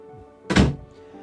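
One of the double Dutch doors on a Krogen Express 52 yacht (2021) closes with a single solid, close thunk, short and full-bodied, against a low steady background hum.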